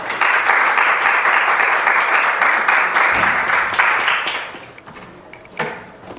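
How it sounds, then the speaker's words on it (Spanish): Dense, steady applause from an audience welcoming a doctor before a pediatrics talk on antibiotic use, sustained at full strength for several seconds, then thinning out and fading to a few stray claps near the end. "Recibámoslo con un fuerte aplauso."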